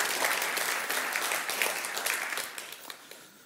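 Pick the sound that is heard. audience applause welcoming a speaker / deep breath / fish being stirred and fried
audience applause welcoming a speaker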